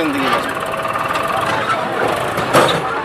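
A tractor and a JCB excavator work on a town road construction site, a loud, steady engine rumble with clanking and squealing, while people talk nearby over the machinery.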